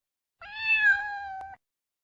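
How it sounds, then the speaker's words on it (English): A cat gives a single clear, drawn-out meow lasting about a second, close and isolated against silence. "The cat."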